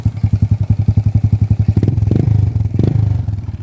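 A Honda Smash 110 motorcycle engine running just after being started, a close, loud, rapid putt-putt idle with regular pulsing beats that quicken and roughen slightly as it settles.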